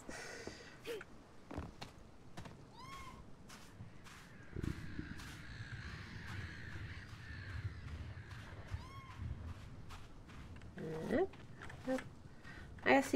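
Seagulls in the video game Fall of Porcupine, on a dock covered in dead fish, give several short, sharp calls at intervals, mixed with soft footsteps and squelching movement at close range.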